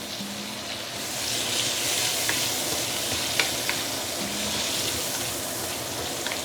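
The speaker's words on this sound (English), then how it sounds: "Give it some final stir and it's basically done." Muar-style chili prawns fry and get a final stir in a pan with salt and sugar, giving a continuous loud sizzle broken by scraping stirring clicks throughout.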